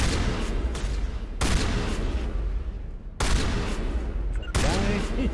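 Shotgun fire in the Mass Effect video game, heavy booming blasts: one after about 1.4 seconds, another at about 3.2, and a third near 4.5. Each is loud and close over constant noisy game combat.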